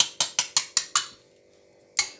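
A gas stove knob on a home kitchen cooktop is turned up to raise the flame under a karai, giving six quick, close ratcheting clicks in steady succession, a pause, then one more click.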